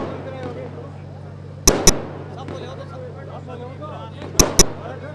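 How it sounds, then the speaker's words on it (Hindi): Fireworks go off at an outdoor BJP felicitation event for an elderly councillor in Shri Dungargarh, with two pairs of sharp, loud bangs spaced a few seconds apart over a steady hum and background voices. "आप देख रहे हैं जोरदार आतिशबाजी भी हो रही है।"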